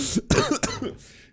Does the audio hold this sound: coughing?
yes